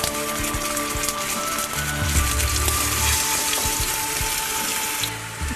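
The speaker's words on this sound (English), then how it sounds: "Just lightly fry the apple rings in the hot oil." Apple rings frying in hot oil in a small frying pan, a continuous bright crackling sizzle close up, with occasional spatters and light clinks over a low steady hum.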